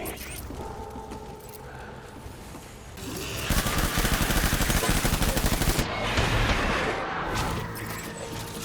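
Gunfire in the video game Death Stranding, a sustained burst of rapid automatic shots over mechanical clatter and creaks, loud and close, then a second rattling volley before fading back to background noise.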